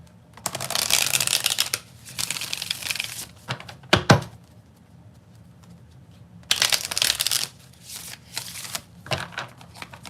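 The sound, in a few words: tarot cards being shuffled and spilling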